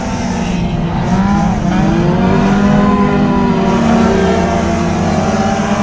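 Race cars roar past at Deep South Speedway, a loud, dense engine drone with rising and falling pitch as several cars battle together on track.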